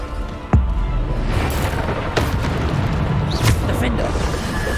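A Bombarda blasting spell goes off in the Hogwarts Legacy video game as a sudden loud boom with a low rumbling tail, followed by further dull impacts over a steady, busy game backdrop.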